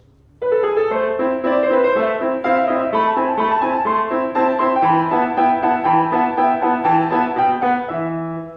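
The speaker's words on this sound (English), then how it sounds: "if I tried to play the staccatos using the arm," Heavier, duller staccato on solo piano, played with the arm, carries the opening of Mozart's Alla Turca; the notes sound close and loud but lack snap, with no voices.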